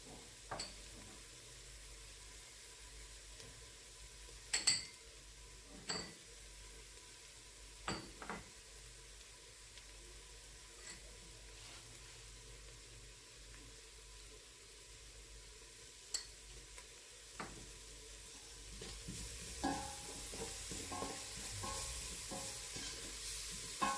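Chopped onion sizzles steadily in a soup pot for a vegetable and shrimp soup, with a faint frying hiss underneath and sharp clicks and scrapes from a utensil stirring now and then, the hiss growing brighter toward the end.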